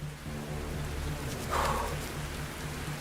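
Steady rain falling on an alien exoplanet, a dense hiss with a low hum underneath and a brief brighter swell midway, continuous and fairly close with no talk.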